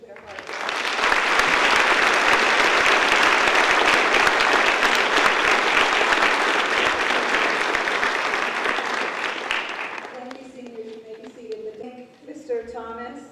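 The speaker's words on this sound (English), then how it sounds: "I ask everyone to join me in applauding these seniors for their hard work" A full audience applauds graduating seniors at a high school honor society ceremony, loud dense clapping swelling quickly and holding for about nine seconds before fading, then a voice begins speaking.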